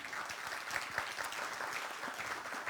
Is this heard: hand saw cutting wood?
no